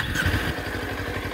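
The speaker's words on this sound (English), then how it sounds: "I'll start the bike up." A Kawasaki Ninja 400's parallel-twin engine turns over and settles into a steady, low, rhythmic idle, loud and close.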